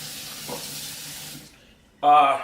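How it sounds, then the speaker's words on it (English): Tap water runs over four Idaho potatoes being rinsed in a kitchen sink, a steady close hiss for about a second and a half that then cuts off, followed by a brief voice. "run a little water over it, get any excess dirt off it"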